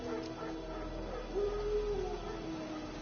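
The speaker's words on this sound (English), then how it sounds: "Wolves? No. Wild dogs." Wild dogs in the video game The Witcher 3 let out a low, drawn-out whine and growl, faint and distant over ambient wind, with no talk.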